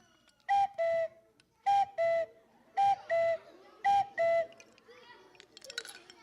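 A bird whistle imitates a cuckoo. It gives four clear two-note calls, falling from the higher note to the lower, at a steady pace, followed by softer fumbling clicks and a faint chirp.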